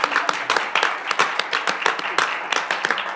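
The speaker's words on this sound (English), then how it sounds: "Can we give her applause?" Clapping at a Tooele County business meeting for Allison McCoy, named Auditor of the Year: a short, sparse round of hand claps from a small group, close and fairly distinct.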